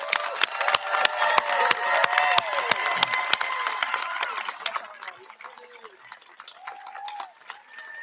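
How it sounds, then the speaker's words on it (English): Scattered applause and cheering for the graduating class of 2020, with loud, sharp individual claps close by and a few whoops over a crowd murmur, thinning toward the end as people talk. "let's give them a little applause"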